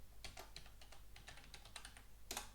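Computer keyboard typing while entering a terminal command during a Molpro software install: several quick bursts of light key clicks over steady low background hum, with a louder cluster of keystrokes near the end.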